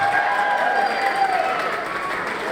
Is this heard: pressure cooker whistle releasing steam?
no